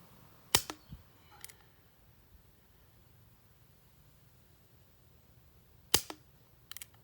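Umarex Duke Colt CO2 BB revolver firing airgun darts outdoors: two sharp, loud shots about five seconds apart, each with brief trailing clatter, over faint wind-like background.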